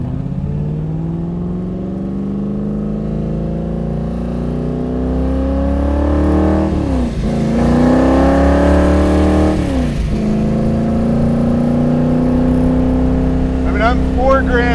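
A Superformance Cobra R with a Roush 427 V8 making 550 hp accelerates through the gears, its loud, close engine note climbing in pitch, dipping at two shifts, then rising again while occupants talk over it.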